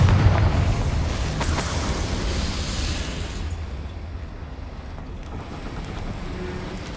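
A Confringo spell blast in the Hogwarts Legacy video game bursts with a loud, broad explosive boom that rumbles and slowly fades over several seconds into a softer rushing tail.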